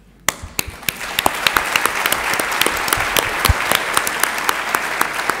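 Applause at a graduation ceremony for the 2021-2022 graduates: a crowd claps steadily after an opening sharp clap, with distinct nearby hand claps standing out over a dense mid-distance patter and no speech.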